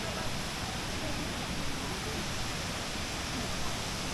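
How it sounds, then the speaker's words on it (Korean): Kuang Si waterfall near Luang Prabang, Laos, roars as a steady, broad wash of falling water, constant and fairly distant, with no breaks. "아 폭포가 이렇게 생겼구만"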